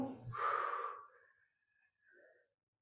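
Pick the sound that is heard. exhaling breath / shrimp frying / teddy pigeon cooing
exhaling breath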